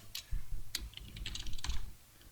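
Quick bursts of computer keyboard typing during PHP and JavaScript coding, irregular clusters of close, crisp key clicks with short pauses between them, no voice present.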